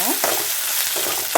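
Onions frying in oil with a pinch of coarse salt for drumstick sambar, giving a steady close hiss of sizzling broken by a few quick scraping stir strokes, with no one speaking.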